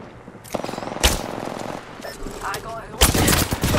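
Rapid gunfire from an Apex Legends match, bursts of automatic shots crackling in and out over several seconds, loud and close, with heavy overlapping volleys near the end.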